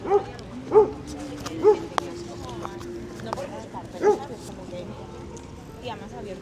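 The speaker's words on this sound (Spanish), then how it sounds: "El perro la lía." A dog barks on a street in Santander, Spain, several separate woofs spread unevenly across the stretch, mid-distance, with people talking and street ambience throughout.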